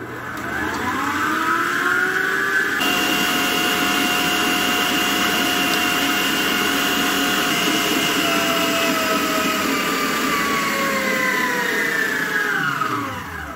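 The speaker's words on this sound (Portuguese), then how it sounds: "Começar a colocar 4 ovos na batedeira. E vamos bater até dobrar de volume," A stand mixer beats four eggs at a steady high speed, a loud continuous motor whine with a slight pitch drift, running alone with no talk.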